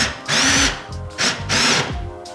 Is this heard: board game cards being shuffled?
no